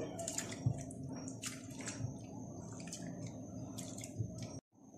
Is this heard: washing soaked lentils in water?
yes